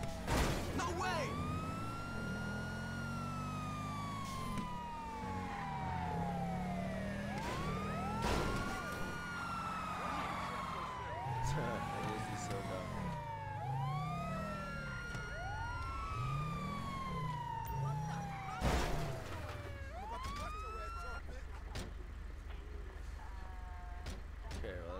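Wailing ambulance siren in the video game GTA V, sweeping up and down in long repeated cycles under steady engine and traffic noise, loud and close throughout, with a voice talking over it at times.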